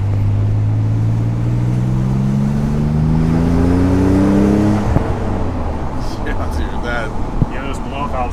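Twin-turbo Nissan 300ZX barn-find engine revving up to around 3,500 RPM on its first drive, a loud steady rising drone that drops off partway through, then continues more unevenly with voices talking over the cabin noise.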